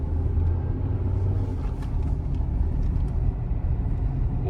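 A Tata Sierra 1.5 naturally aspirated engine labours uphill in a low gear, giving a steady, heavy, loud rumble from inside the cabin with no talking.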